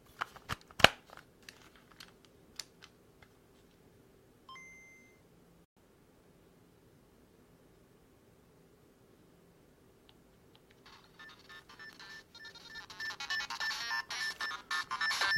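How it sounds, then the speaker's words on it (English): Game Boy Camera sound effects play on a Game Boy Advance: a few sharp electronic blips and beeps at the start, a short chirp, then a near-silent stretch before a rising burst of hissy, crackling electronic noise. "It's a funny sound, isn't it? Game Boy camera."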